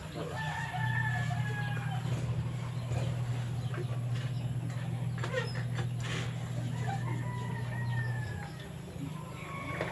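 A rooster crows and chickens cluck nearby, with a steady low hum running underneath throughout.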